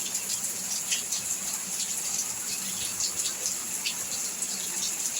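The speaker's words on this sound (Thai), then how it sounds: "ตื่นแต่เช้ามาฝนตก" Steady early-morning rain falls continuously in a village, a dense even hiss with scattered drips and patters, no voices.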